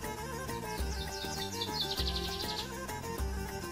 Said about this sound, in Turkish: Abi her yer cıvıl cıvıl ya, kuş sesleri, muş sesleri.